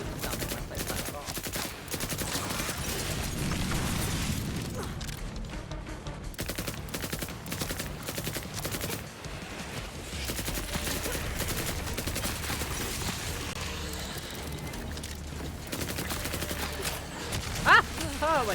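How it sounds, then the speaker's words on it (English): Video game gunfire and explosions, dense rapid bursts of shots and booming blasts in a continuous loud barrage, with a voice talking over parts of it. "All the explosions, like, I can't even see."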